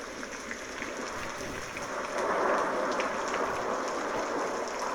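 Steady, soft rain hiss with a faint patter that swells slightly midway; no voices.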